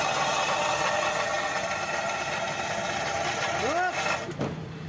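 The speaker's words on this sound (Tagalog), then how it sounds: "Ang lakas nung kumakaskas dito sa gulong niya." A Honda CR-V engine running in drive, with a scraping noise from the front right wheel: a loud, continuous, gritty rumble close by, with a brief rising-and-falling tone near the end before it drops off.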